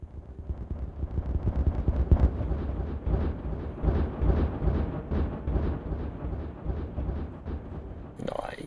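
Video game explosions, a rumbling run of booming blasts that swell and roll for several seconds, loud and heavy, ending with a brief higher crackle.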